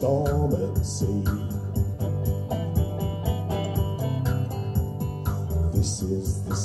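A folk band of harp and other instruments plays a busy, swirling passage imitating a storm at sea at a live festival performance, dense and continuous with plucked strings and percussive hits throughout.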